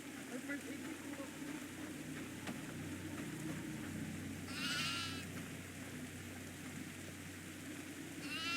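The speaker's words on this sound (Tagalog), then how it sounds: "may kambing. Ito kambing." A goat bleats in the horror video game Devour: one short, high, wavering bleat about midway, set against a steady low ambient drone, with faint voices in the background.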